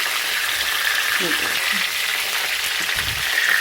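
Pakoras frying in hot oil over medium heat while being turned over in the pan, a steady loud sizzle throughout with faint scraping as they are flipped.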